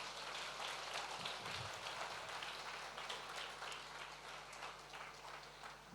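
Steady audience applause at a Hindi church sermon, a dense continuous patter of many hands clapping at moderate distance with no pauses throughout.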